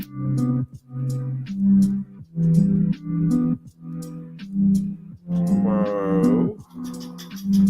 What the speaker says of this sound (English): Moo cow for you.